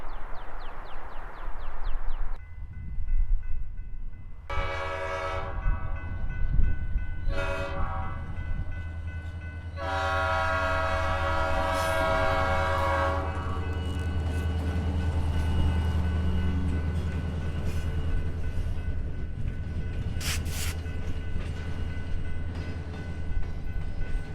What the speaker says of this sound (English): Oh, that was a long ass train.